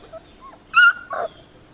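A puppy gives a few short barks and a whimper, close and loud, with brief gaps of quiet between the calls.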